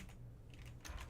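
Computer keyboard typing sits low in the background, a few soft clustered keystrokes with no speech over them.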